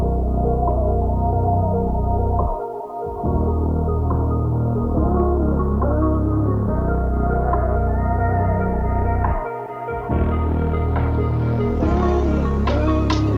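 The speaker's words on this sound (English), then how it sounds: "for the pre-chorus, I did a slight EQ cut and it sounds like this." A dark, emotional hip-hop beat's pre-chorus with a slight EQ cut automated on the master, dense and steady with sustained low tones, briefly dropping out twice, played alone at moderate volume.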